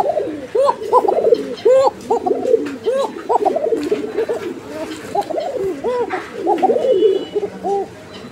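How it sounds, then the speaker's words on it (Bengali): A Bashiraj koka pigeon cooing outdoors, repeated rhythmic rolling coos close by, several overlapping in quick succession with short pauses between phrases. "এটা বাসিরাজ কোকা, অনেক সুন্দর ডাকে"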